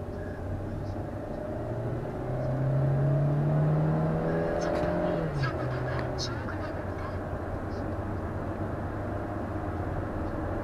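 Used SsangYong Tivoli driving on a test drive, a low steady engine hum with one modest rev swell midway, heard from inside the cabin.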